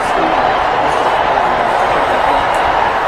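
A vast crowd cheering in St. Peter's Square after a papal election, a dense, steady roar of distant voices with no breaks, with a voice speaking over it.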